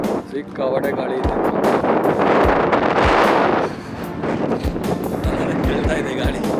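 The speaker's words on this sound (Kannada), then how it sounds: "ಕೇಳ್ತಾ ಇದೆ ಗಾಳಿ." Strong wind roars across the exposed Z Point mountain peak near Chikmagalur, a loud, gusty rush of broadband noise buffeting the microphone throughout, swelling in the middle and easing briefly before picking up again.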